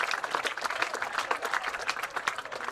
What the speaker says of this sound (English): But applause for Aman Rao.